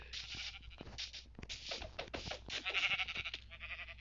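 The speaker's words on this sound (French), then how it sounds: "On va tuer le mouton. On va tuer les 2 moutons avant." Sheep in the Minecraft game bleat repeatedly in short wavering calls, close and fairly loud, mixed with scratchy game noises and clicks.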